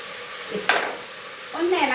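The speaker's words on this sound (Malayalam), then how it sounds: "ഒന്ന് ഇളക്കുക. കാരണം ആ മഞ്ഞപ്പൊടിയൊക്കെ ഇട്ട് കഴിഞ്ഞു ഒന്ന് ഇളക്കുക." Green chillies being stirred in a hot pan with turmeric powder and salt for a spicy curry, one brief scrape of the spoon followed later by a soft sizzle, fairly quiet and with no talking.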